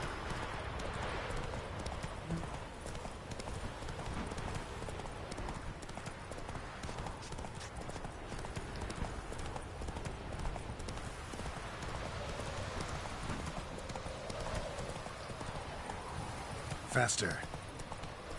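Roach, Geralt's horse in The Witcher video game, gallops with steady rapid hoofbeats that run continuously under game ambience, while a person talks over it.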